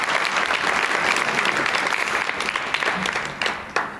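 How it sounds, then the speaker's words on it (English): A convention panel audience for a Star Trek Deep Space Nine and Orville actress bursts into loud, close applause that swells and thins over a few seconds, with scattered louder claps near the end. "Wait a minute, you guys, you have to applaud that."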